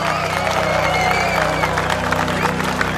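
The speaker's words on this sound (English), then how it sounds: "give a big round of applause for the one and only" A cartoon concert crowd gives a singer dense, continuous applause with cheering, a busy wash of clapping over a steady low hum of the venue, fairly loud throughout.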